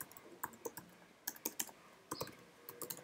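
Typing code on a computer keyboard, quiet close clicks in short irregular bursts with pauses between them, no talk.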